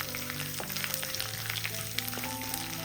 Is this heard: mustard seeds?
yes